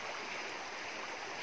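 A river stream rushes over rocks near a village, a dense, steady broadband wash of flowing water heard up close with no voices.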